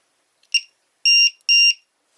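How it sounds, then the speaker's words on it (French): LiPo battery voltage alarm booting up: a short faint chirp followed by two loud, shrill electronic beeps in quick succession, close and alone in a quiet room. "On va chercher notre LiPo alarme."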